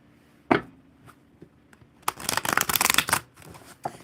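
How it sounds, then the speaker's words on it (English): Thick tarot cards being shuffled, a sharp single riffle slap followed by a few light taps, then a loud dense burst of flapping card riffles for about a second, ending with one more crisp snap. "These cards are thick. They make such a loud sound when I shuffle them."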